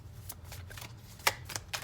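Tarot cards are shuffled by hand in quick, soft riffling bursts, with a few sharper snaps near the end, faint and close against a low hum.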